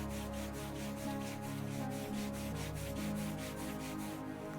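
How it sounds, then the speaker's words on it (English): Hands rub briskly up and down over the knees in a seated chair-yoga exercise, a soft steady close friction swish repeating in an even rhythm with no talk. "start to rub up and down, really creating friction and warmth"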